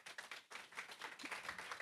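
A conference audience applauding two presenters as they come on stage, faint, fairly distant clapping that stays steady and continuous for a couple of seconds.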